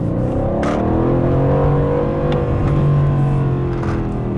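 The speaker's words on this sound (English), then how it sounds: "I'd rather hear the engine than hear any radio station" A 2020 Aston Martin Vantage Coupe engine hums loudly and steadily from inside the cabin, its pitch swelling and easing as it revs.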